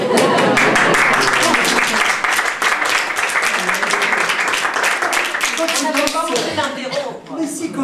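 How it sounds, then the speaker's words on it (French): A live audience claps and applauds steadily and loudly at a French café cabaret, dense continuous clapping filling the room, easing slightly near the end while voices carry underneath. "Applaudissez encore."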